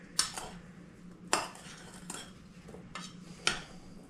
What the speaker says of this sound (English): Just give it a mix.